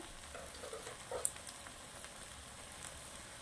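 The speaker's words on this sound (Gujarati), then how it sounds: "ભીંડાના અંદર લાર બળી ગઈ છે, ભીંડા સરસ તળી ગયા છે." Okra fries in a pan for Punjabi-style dahi bhindi, a quiet, continuous sizzle with a few faint stirring clicks, no voices.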